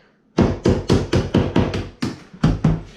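A hammer tapping metal corner bead down on a drywall corner, about ten quick, loud, close strikes in an even rhythm, with no talking.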